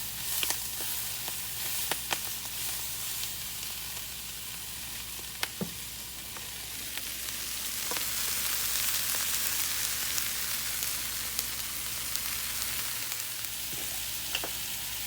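Brussels sprouts frying in a pan give a continuous bright sizzle, with occasional clicks and scrapes as they are stirred, close and steady throughout.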